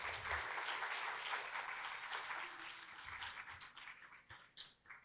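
Audience applause for a teacher being introduced at a reading, writing and orality conference, a steady wash of many hands clapping that thins out over the last second with a few scattered claps.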